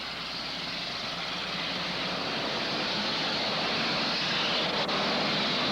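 Race cars pulling away on a restart at a Holland Speedway enduro, a dense, steady engine roar with a slowly swelling wash of noise and no clear breaks.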